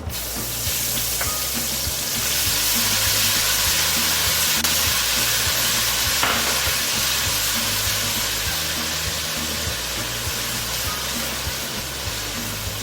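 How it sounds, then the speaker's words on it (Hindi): Ginger garlic paste, about a tablespoon, frying in a pan for bhagaray baingan gives a steady, loud broadband hiss that sizzles continuously with a low rumble underneath and no talking. "अब मैं इसके अंदर जिंजर गार्लिक पेस्ट डाल दी हूँ"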